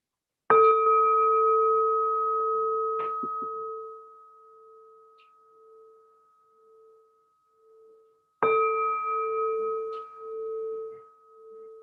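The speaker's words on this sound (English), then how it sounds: "Hearing the bell." Two meditation bell strikes about eight seconds apart, each ringing out with a clear sustained tone that slowly fades, with quiet between.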